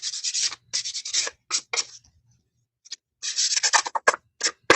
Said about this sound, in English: And I'm just going to sand it.